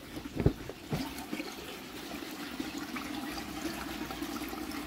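Water pumped into a greenhouse tank, a steady low wash of running, splashing liquid with a couple of louder gurgling bursts near the start, continuous throughout.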